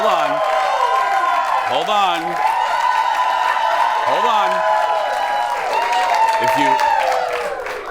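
A studio audience claps and cheers loudly and continuously, with whoops rising through the din, while a host speaks over the applause at several points.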